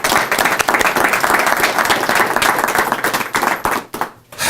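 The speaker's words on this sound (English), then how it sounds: "Give them a round of applause." An audience at a press conference breaks into loud, dense applause, many hands clapping together close by, sustained for several seconds before tapering off briefly and picking up again.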